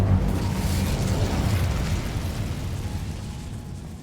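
An Incendio fire spell cast in Hogwarts Legacy erupts in a sustained, roaring fiery burst that swells loudly at first and slowly tapers, heard alone without talk.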